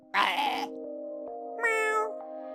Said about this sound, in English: Meow. Meow. A cat.